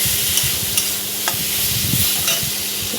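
Potatoes stir-fried in a pan for a rita fish curry: a soft sizzle under a rhythm of spatula scrapes and light taps, close by, with no voices.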